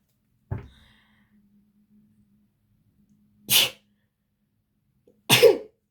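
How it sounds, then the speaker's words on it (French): A single nearby sneeze, preceded by a short sharp breath and followed after a pause by a second sneeze-like burst, with near silence between. "je suis désolée, je crois que je vais éternuer."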